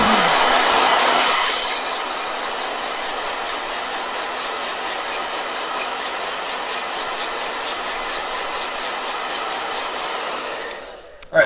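A blow dryer runs with a steady loud whooshing hiss, a little stronger during the first two seconds, then holds constant until it switches off at the end.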